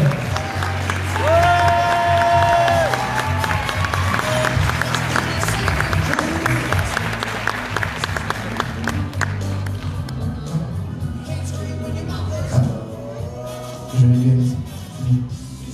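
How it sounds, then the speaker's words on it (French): Audience at a French ambassadors pageant gala applauding and cheering a contestant: sustained clapping mixed with shouts and whoops and some music-like tonal sounds, fading slightly toward the end with a few louder bursts. "Sur vos applaudissements, s'il vous plaît."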